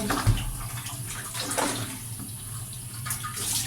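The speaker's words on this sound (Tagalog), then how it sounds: "So, ligo muna tayo. Maliligo si Tyler" Tap water runs steadily into a tub or basin while a dog is bathed, a close, continuous splashing rush with small fluctuations throughout and no talking.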